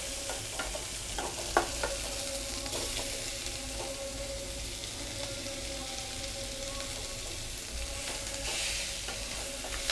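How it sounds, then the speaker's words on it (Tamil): Shallots and grated coconut sautéing and being stirred in a pan, a steady soft sizzle with occasional spoon scrapes and clicks, close and continuous with no talking. "இதை நல்லா வதக்கிட்டு இப்போ வந்து தேங்காயும் நம்ம போட்டு வதக்கணும்."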